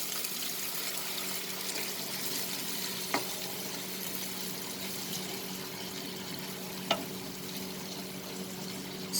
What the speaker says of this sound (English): This is the time we are going to add water to this recipe.